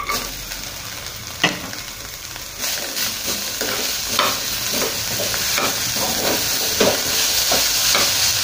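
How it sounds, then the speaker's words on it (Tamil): Jaggery being stirred into hot grated coconut filling in a pan for kozhukattai, with steady scraping and a soft sizzle under it, plus a few sharper spoon knocks against the pan. "இந்த ஸ்டேஜில் நம்ம இந்த வெள்ளத்தை போட்டுடலாம்."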